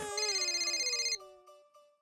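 A phone ringtone plays a bright melodic tune for about a second, then stops, leaving a few faint fading tones.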